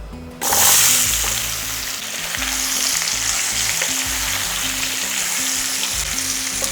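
Spice-coated ash gourd hits hot oil with a sudden loud burst of sizzling, then fries on high flame with a steady close hiss and occasional stirring.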